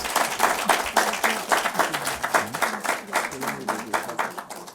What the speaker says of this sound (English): a round of applause again for our contestants